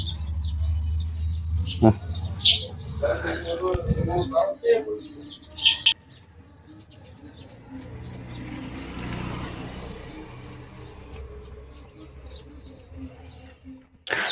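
Sparrows chirp and tweet in scattered bursts while people talk nearby, with a steady background hum and occasional clatter.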